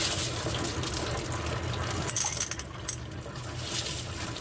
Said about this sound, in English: You just want to add your ceramic back into the barrel.